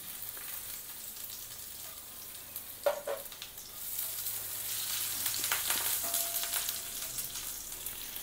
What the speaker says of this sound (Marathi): तेल तापलेलं आहे, थोडा लसूण टाकायचं बारीक चिरून